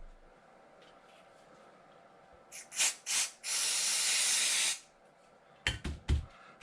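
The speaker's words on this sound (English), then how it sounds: "that's why I'm spraying them with brake clean" Aerosol brake cleaner sprayed onto oily Proline shocks of an Arrma Big Rock RC truck, heard as a few short hissing bursts followed by one long, loud steady spray, then more quick puffs.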